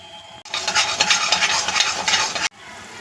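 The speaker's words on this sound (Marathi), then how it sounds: "आपण आपले हे सर्व ड्रायफ्रूट्स जे मिक्स केलेले आहेत ते छान आपण ह्याच्यामध्ये परतून घेणार आहोत" Mixed dry fruits sautéing in ghee for a steamed modak filling, a steady two-second burst of sizzling and scraping stirring that starts and stops abruptly over a quiet kitchen background.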